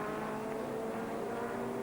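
A race car competing in the 2002 FIA GT championship roars past close by at sustained high revs, its engine note a dense, steady, loud drone.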